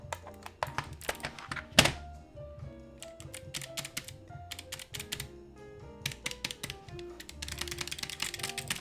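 Irregular clacking on a malfunctioning computer keyboard, bursts of quick keystrokes with one sharp hard thunk early on and a denser flurry of taps toward the end.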